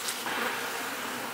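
A dense, steady buzz of many honeybees in a hive, close and continuous, with no voices.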